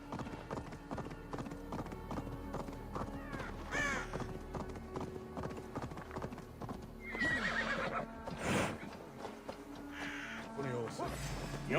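Horse hooves clip-clopping in a steady galloping rhythm with a sharp neigh partway through, from the Assassin's Creed Valhalla video game, set among other game effects and bird caws.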